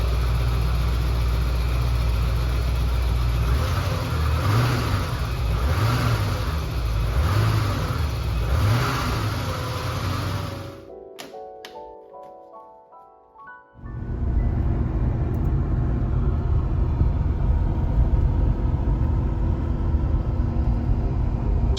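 A restored Porsche 928GT's engine runs loud and close, rising and falling through revs as it drives, then cuts out briefly before a steady, rumbling drive resumes.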